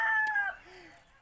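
On a poultry farm with chickens about 21 days old, one short, close bird call rings out and then fades into quiet.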